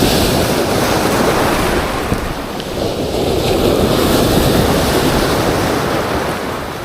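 Heavy ocean surf pounds continuously during a typhoon, a loud broadband roar of breaking waves mixed with strong wind buffeting the microphone, with no voices.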